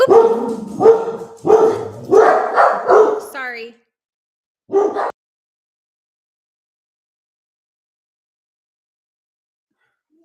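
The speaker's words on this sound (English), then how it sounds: "The dog started barking." A dog barks in a quick series of loud, close barks, then falls quiet before one last bark; a voice speaks briefly.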